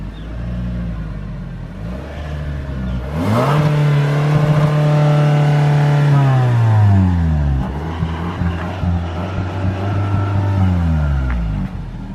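Engine of a 2021 Toyota Camry revved from idle, climbing to a loud, steady high-rpm hold for several seconds before dropping back down to a low idle.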